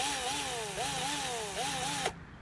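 A small toy electric screwdriver plays its motor-starting noise, a buzzing electronic whir with repeating rising-and-falling pitch sweeps, close and steady for about two seconds before stopping sharply.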